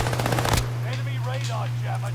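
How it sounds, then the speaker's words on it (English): Video game gunfire, a rapid burst of automatic shots lasting about half a second, then a steady hum with faint game effects behind. "They're getting shot at, though."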